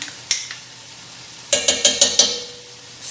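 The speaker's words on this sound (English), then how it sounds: "Stir that around so the tomato paste just gets well blended with everything else" Tomato paste being stirred into a wild boar stew in a pot: a spoon scrapes and clinks against the pot in a quick run of five metallic knocks, close up over a faint background sizzle.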